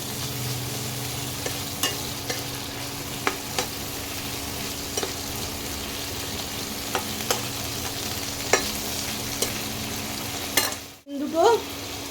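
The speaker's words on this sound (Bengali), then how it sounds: "চিকেনটা একটু ভাজা ভাজা হোক।" Seasoned chicken pieces fry in a pan for restaurant-style egg chicken fried rice, giving a steady close sizzle throughout, broken by occasional sharp ticks of stirring and a brief utensil clatter near the end.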